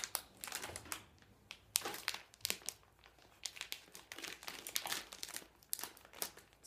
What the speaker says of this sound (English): Can I get into these things or do I need to get scissors?